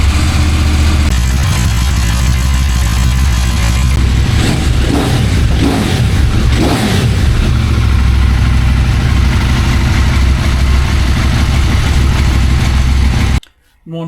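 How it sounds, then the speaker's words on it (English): A CFMOTO MT800 motorcycle engine runs steadily at idle after an annual service, a continuous low rumble close by that cuts out abruptly near the end. "start the bike, see if it runs, and see if we've got any leaks."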